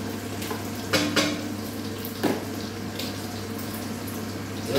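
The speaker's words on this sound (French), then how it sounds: "J'y mets mes oignons." Onions hit melted butter in a pan and fry with a bright, close sizzle, punctuated by a few sharp clinks of a utensil against the pan as they are stirred.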